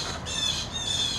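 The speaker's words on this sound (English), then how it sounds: "never mind the squawking bird there" A bird squawking close by, a loud harsh shrill call that runs across the short moment with a brief dip, alone without talk.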